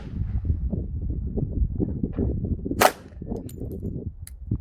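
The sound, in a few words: shotgun firing Multiple Impact Projectile ammunition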